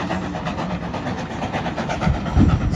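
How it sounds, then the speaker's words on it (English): A steam train heading back up to Paignton rolls past near Dartmouth, its steady clattering rumble heard from a distance over water and boat noise, swelling slightly toward the end. "there's our steam train that we were talking about earlier, making our way back up to Paignton"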